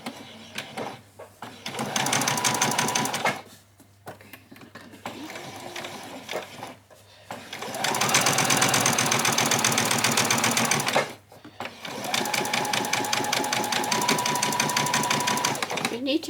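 A sewing machine stitches gathering lines on an apron in three loud, rattling bursts of a few seconds each, separated by short pauses, with a person talking over it.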